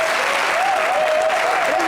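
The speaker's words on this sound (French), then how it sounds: "Applaudissez un peu pour Oprah." Studio audience at a French TV entertainment show claps steadily and loudly throughout, a dense wash of applause with a faint wavering tone riding underneath.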